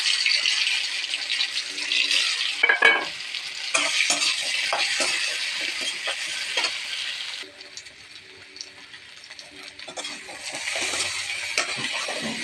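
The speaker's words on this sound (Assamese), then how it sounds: "এতিয়া মই আলুখিনি ফ্ৰাই কৰি ল'ম।" Potato pieces sizzle and hiss in hot oil in a frying pan, close and steady, with scraping stirs and occasional utensil clanks against the pan throughout, and no talking.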